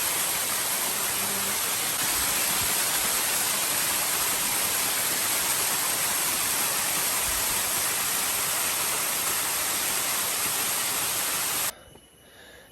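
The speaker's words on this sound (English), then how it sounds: "the waterfall is just so beautiful" A jungle waterfall roars as a dense, steady broadband rush up close, holding constant before abruptly dropping off near the end, with no voices.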